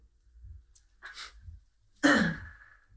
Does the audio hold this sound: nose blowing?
yes